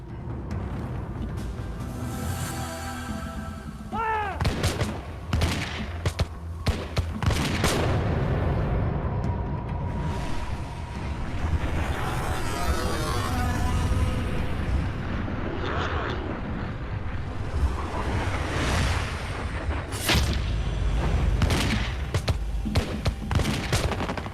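Musket volleys crack and boom across an American Revolution battle, sharp gunshot bursts scattered through the clip amid rumbling, with someone narrating over the gunfire.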